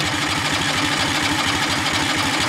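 A 50HP 670cc drag rail kart engine at full throttle, a loud steady pulsing roar held close and constant throughout with no voices over it.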